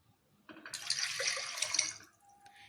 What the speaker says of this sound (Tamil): அதில் 2 கப்பு தண்ணி ஆட் பண்ணிக்கோங்க.